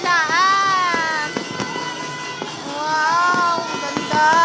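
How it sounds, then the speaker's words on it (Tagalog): New Year fireworks bursting outside, a steady run of sharp cracks and pops over several seconds, with people talking and exclaiming excitedly close by throughout. "Wait lang, nood muna tayo fireworks"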